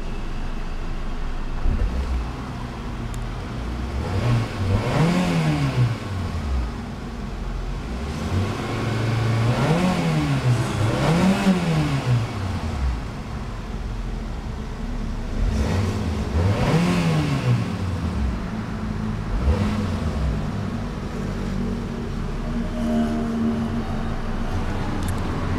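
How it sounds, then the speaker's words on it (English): A 2007 Naza Suria's 1.1 litre inline-four engine is revved repeatedly while parked, rising and falling in several distinct sweeps over a steady idle, fairly loud and close with no talking. "let's go ahead and see how she revs."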